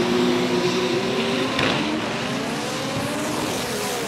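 A drag racing car at a Brazilian arrancada strip accelerates hard, its engine a loud, continuous roar close by with harmonics that climb steadily in pitch and no talk over it.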